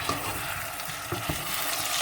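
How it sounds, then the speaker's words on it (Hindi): Quince pickle being stirred after lemon juice goes in, a steady wet mixing and scraping texture that runs continuously and fairly close throughout, with no voices. "अब हम इसमें नींबू का रस डालेंगे। इसको अच्छी तरह मिक्स कर देंगे।"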